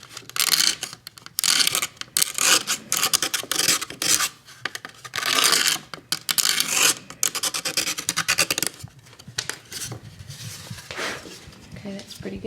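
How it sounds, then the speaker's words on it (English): A hand scraper works glue squeeze-out, giving repeated short rasping strokes in uneven bursts that stay close and fairly loud, with brief pauses between them. "Sometimes you can see she's just scraping."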